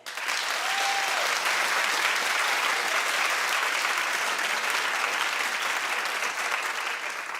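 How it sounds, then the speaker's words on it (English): A television studio audience claps in a sustained, loud, even burst of applause, many hands together filling the room without pause for several seconds. "clap if you think it's low."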